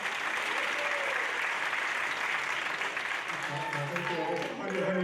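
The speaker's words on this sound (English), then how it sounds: "Give a big round of applause." Warm, sustained applause from a crowd at a graduation ceremony, even and continuous, with voices rising faintly beneath it toward the end.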